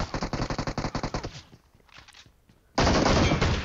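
Rapid, loud bursts of gunfire in PUBG Mobile on the Livik map, including shotgun fire, rattling in a fast steady string, dropping to scattered quieter shots, then erupting into a dense continuous barrage.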